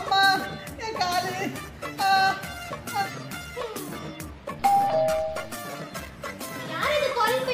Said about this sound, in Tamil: யார் இது காலிங் பெல் அடிக்கிறது?